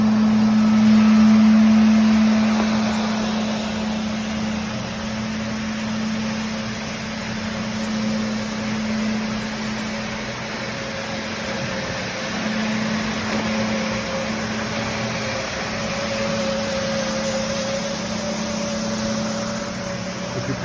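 A floor scrubber runs continuously across a racetrack oil spill, giving a steady motor drone and brush hum with a constant broadband wash that stays even for about twenty seconds, with no speech.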